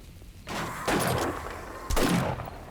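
Gunfire in the 7 Days to Die video game (Alpha 20), with three muffled shots spread across the clip, each leaving a dull echoing tail, fairly quiet overall.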